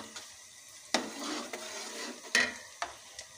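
Onions fry in a pan for chicken pulao, a soft sizzle punctuated by a few scraping stirs and light clinks of a spoon against the pan, close and fairly quiet.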